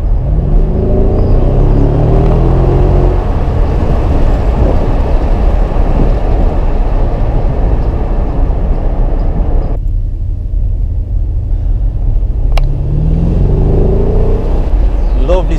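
A 2017 Mercedes-AMG S500 Cabriolet accelerates hard, its engine note climbing in pitch at the start and again near the end over a steady roar of road and wind noise.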